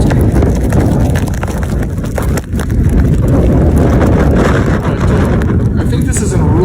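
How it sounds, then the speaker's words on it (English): Loud, constant wind from a blizzard in rural Minnesota buffeting a microphone, a dense low rumble with gusty fluctuations throughout and faint background activity. "Pretty windy out there."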